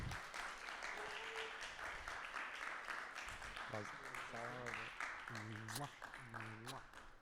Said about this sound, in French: on applaudit Kémy.